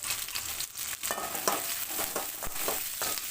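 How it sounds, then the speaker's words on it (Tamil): Pepper, cumin and fennel sautéing in oil with softened onions, a steady frying hiss broken by repeated scraping stirs of a spoon in the pan, close and moderately loud with no talking. "இப்போ மிளகு, சீரகம், சோம்பு போட்டு வதக்கலாம்"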